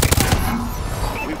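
Gunfire from the online video game Call of Duty: Advanced Warfare on PS4 opens with a loud, rapid burst of shots up close, then trails off into a rumbling tail.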